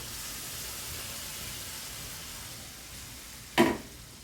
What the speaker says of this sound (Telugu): ఇవ్వండి తాలింపు వేసేస్తాను దీంట్లో